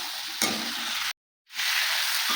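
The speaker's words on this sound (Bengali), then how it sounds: "এবার সিদ্ধ করা কাবলি ছোলা দিয়ে দেবো" Boiled kabuli chickpeas fry in spiced oil in a pan and get stirred. A loud, steady sizzle plays up close, then cuts out for a moment of silence before the frying starts again, with no talking.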